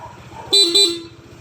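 Two short, loud honks from a vehicle horn, close by, over a faint rhythmic idling hum.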